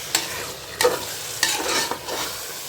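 Chicken for biryani sautéing in a pan, with a few sharp stirring scrapes at irregular intervals over a low, steady sizzle, close by and with no voices.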